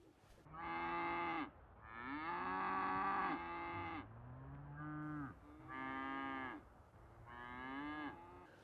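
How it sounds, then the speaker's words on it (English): Cattle on a ranch lowing in five or six long, drawn-out moos, one after another with short pauses between, clear and fairly close with no other sound. "because they're cows. See? Moo."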